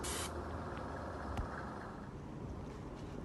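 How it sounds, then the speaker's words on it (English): An airbrush sprays filler-matching paint onto damaged fibre cement cladding boards, giving a short burst of bright hiss at the start followed by a low, steady airy rush. "Using the airbrush, you are able to spray the damage with control."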